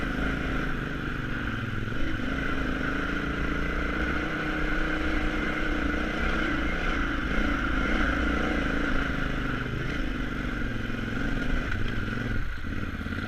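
A KTM 950 Adventure motorcycle rides a high mountain trail at Taylor Park, Colorado. Its steady mid-pitched engine drone holds constant throughout, with faint rattles and wind.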